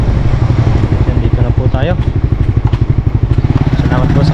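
Motorcycle ride in Taiwan, the engine putting out a close, rapid, steady throb with rattling under it while someone talks over the motor.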